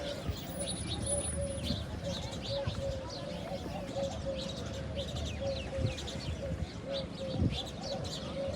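Birds, doves among them, coo and chirp around Love Lake in Dubai, a steady chorus of calls repeating through the whole stretch over a constant low outdoor rumble, with a faint voice underneath.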